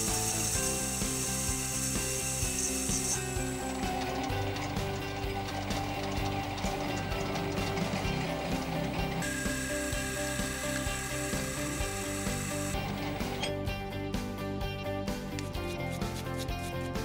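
Bump knurling tool rolling a rope knurl onto a brass clock regulator part on a lathe, a steady loud grinding, whirring rattle that continues without pause throughout.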